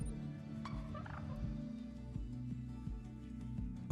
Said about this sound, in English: they did make the turkeys louder here